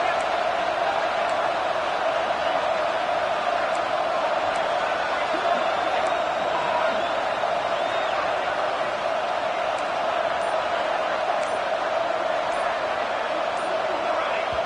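A roaring stadium crowd in the College Football 26 video game keeps up a dense, loud, unbroken wall of noise, with a commentator's voice faintly beneath it.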